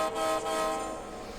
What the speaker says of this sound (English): now I can blow my air horn